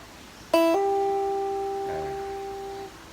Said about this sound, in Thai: ดีดสายเปล่าสายหนึ่งครับ